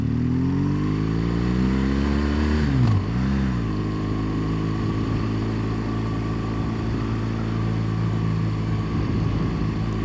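A motorcycle being ridden, its engine droning steadily with a brief dip and recovery in pitch as the rider shifts or eases the throttle, close and loud throughout.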